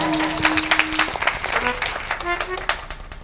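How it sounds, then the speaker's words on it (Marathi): Audience applause for the chopdar at a kirtan in Ladole, Barshi, a burst of scattered clapping mixed with sustained harmonium-like tones and crowd noise. "चोपदारसाठी एकदा जोरदार टाळ्या वाजवा."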